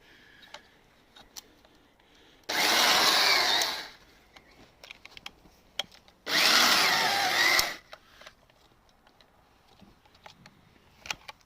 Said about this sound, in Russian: Самодельный бур и практически самодельная дрель.